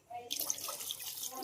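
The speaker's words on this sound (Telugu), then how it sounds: "ఇప్పుడు ఇంకా కొన్ని వాటర్ వేసుకుందాం" Water poured into a pot of goat head curry, a steady rushing splash starting abruptly and continuing under faint background noise.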